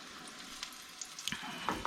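Battered chicken of the woods mushroom dropped into hot oil, a soft steady sizzle with a few brief pops and crackles, close and fairly quiet.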